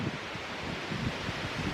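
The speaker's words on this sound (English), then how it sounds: "I think it'd be nice if it wasn't so windy" Gusty wind rushing through leaves in an Iowa park, a steady low rustle and roar with soft buffeting against the microphone, heard alone for under two seconds.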